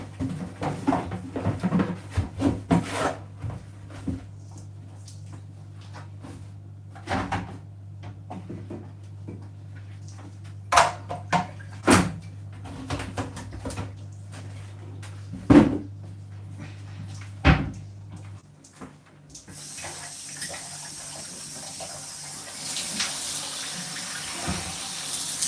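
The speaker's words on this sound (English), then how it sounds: "Sorry, I need to put washer on." A washing machine is loaded and started at home: a low hum, scattered door and cupboard clunks and knocks, then rushing water filling the drum toward the end.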